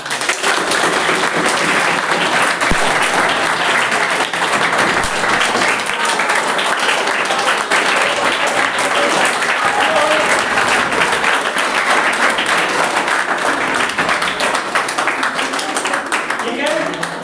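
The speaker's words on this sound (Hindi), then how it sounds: "देखो आए ताली तो बजाओ" Children clapping in a Class 6 science classroom, sustained dense applause that stays loud and even throughout.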